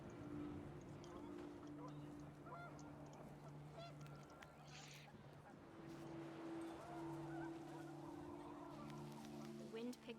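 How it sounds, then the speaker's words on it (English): Panicked geese honk repeatedly in the video game What Remains of Edith Finch, a steady chorus of nasal calls over windy, rushing ambience, with brief louder bursts near the end. "The wind picked up, and panicked geese appeared and quickly went."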